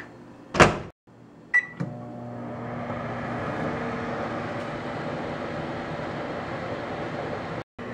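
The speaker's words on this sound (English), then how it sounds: "put it in the microwave on high for about 10 minutes" A microwave oven door clunks shut and a few beeps sound, then a steady mechanical hum and whir settles in on high power and runs evenly until a brief cut near the end.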